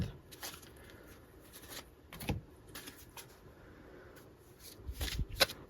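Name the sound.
shuffling and pulling tarot cards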